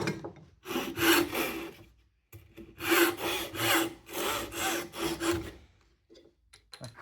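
A tenon saw cuts through wood in a practical woodworking exam, a close, steady rasping of back-and-forth strokes in two sustained bursts separated by a brief pause, with quiet handling noises at the end.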